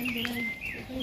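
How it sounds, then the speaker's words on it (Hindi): Outdoor birds chirping and tweeting in thin, sustained calls, faint and set against low background hum in a snowy Italian setting. "ये देखिए चिड़ियों की आवाज़ कितनी प्यारी आ रही है।"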